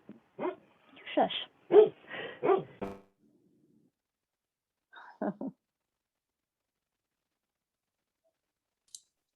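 Dogs in an apartment bark in a quick cluster of sharp, fairly loud barks, then a couple more a few seconds later, mixed with a person's brief shushing and a faint click at the end.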